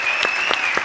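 Audience applause at a live interview event, a loud dense burst of clapping from a close crowd that continues without a break, with a few sharper claps standing out.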